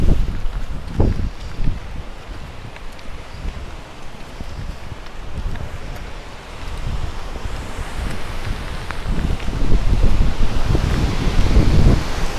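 Strong wind gusts buffet the microphone with loud low rumbling, rising and falling in powerful surges, with no voices.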